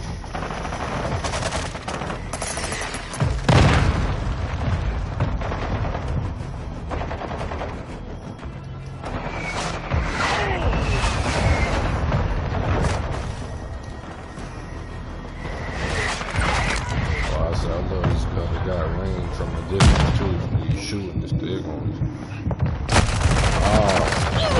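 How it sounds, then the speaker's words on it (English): Mortar strike explosions and heavy gunfire in Call of Duty Modern Warfare 2 Team Deathmatch, with loud booms and bursts of automatic fire rolling through a busy, dense battle soundscape. "Our mortar strike is inbound."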